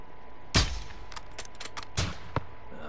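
Rifle shots ring out in Call of Duty: Modern Warfare 2, with two loud sharp cracks about a second and a half apart and a fainter pop after them. Smaller clicks and ambience fill the gaps.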